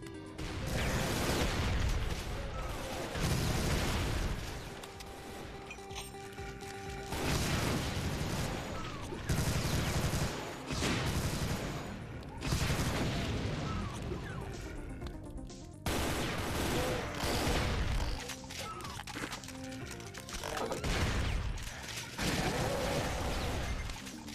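Rapid gunfire and explosions from the video game Doom, a custom WAD finale level, blasting loud and close in dense sustained volleys broken by brief pauses.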